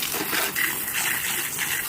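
A steady, hissing rush of water from a tiny pressure washer jet rinsing off a lawnmower, continuous and fairly loud with no pauses.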